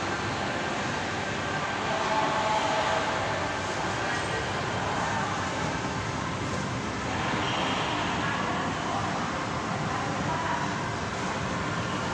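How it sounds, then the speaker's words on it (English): An elevated Sky Train rumbles past steadily and fairly loud, a broad continuous rail roar that swells slightly midway, with no speech over it. "Now there's the Sky Train."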